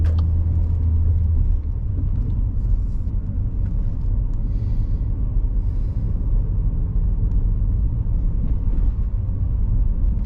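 A car's engine drones in third gear through a 20 zone on a Leeds driving-test route, a steady, loud, close low rumble that stays continuous with no talk.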